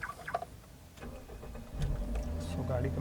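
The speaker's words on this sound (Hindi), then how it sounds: "सबसे पहले जो है हम गाड़ी को स्टार्ट कर लेते हैं" The engine of a 2012 Toyota Corolla GLi 1.3 manual turns over and catches about two seconds in, settling into a low idle rumble after some faint clicks and rustling.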